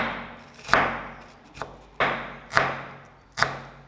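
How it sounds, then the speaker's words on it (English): Knife chopping shallots on a cutting board, six sharp percussive thuds at a steady, unhurried rhythm, each strike followed by a brief decay, close and clear with no talking. "To make the dish fragrant, I use chopped shallots, adding just enough amount to the dish."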